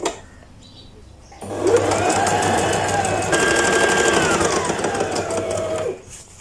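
A Brother GS2700 sewing machine starts up and stitches steadily for about four and a half seconds with a fast, even whirring rattle, then stops, with quieter handling noise before and after.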